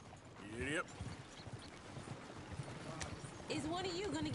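Horse hooves clip-clop steadily in a video game, a rhythmic patter of steps running under game voices and ambient noise throughout.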